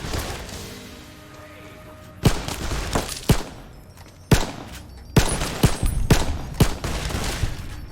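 An M1 Garand rifle fires in a modded Fallout: New Vegas, a series of loud, sharp reports at an irregular pace, about eight shots with short echoing tails, the first few seconds quieter before the shooting begins.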